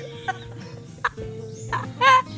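A chicken clucks nearby in short, separate bursts, four or five of them spread over a couple of seconds, with the last one loudest, set against a low rural background hum.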